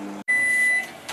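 A microwave oven sounds a single sharp electronic beep after a short hum, marking the end of its two-minute cooking cycle for potato halwa, heard close and clear in a quiet kitchen.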